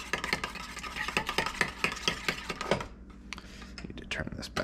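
A spoon beats an egg with cornstarch in a bowl for egg drop soup, giving a quick run of close, rapid clicking and tapping strokes that thin out into sparser knocks near the end.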